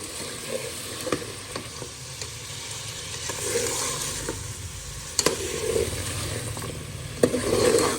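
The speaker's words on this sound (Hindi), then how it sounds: "इसको अब हमने भूनना है मसाले डालने के बाद।" Spices sizzling and frying with mutton in a pot for degi korma, a steady soft sizzle with occasional sharp clinks and scrapes of a stirring spoon, no talking.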